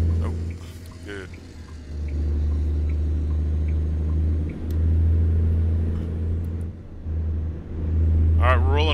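A truck drives in American Truck Simulator, its engine a steady low drone that dips briefly a few times, with a voice speaking faintly over it now and then.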